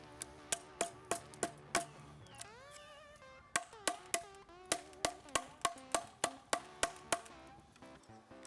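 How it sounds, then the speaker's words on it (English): A hammer drives a chisel to clean out cut wood on a rustic woodshop awning, giving a quick, regular series of sharp knocks with a brief pause midway, close and fairly loud over faint background music. "And I'll come back with a hammer and a chisel and clean it all up."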